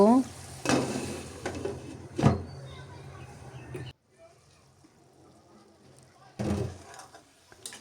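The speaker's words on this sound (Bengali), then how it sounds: "সবজিগুলো আমি খুব ভালোভাবে কষিয়ে নিব" Vegetables for a fish curry sauté in a pan with intermittent stirring scrapes and clatter of a utensil against the pan, loud bursts separated by a quieter stretch, and a voice speaking at times.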